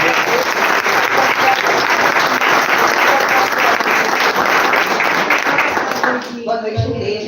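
A church congregation applauds, a loud, dense and steady burst of many hands clapping that carries on for several seconds, then drops away abruptly as a voice begins to speak.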